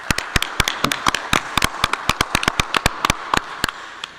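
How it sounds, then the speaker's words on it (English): A small audience claps at a Corporation Commissioner primary debate held in an energy institute building: sharp, separate hand claps, fairly close and loud, in an uneven patter that thins out toward the end. "Quick round of applause for Mr. Wagner."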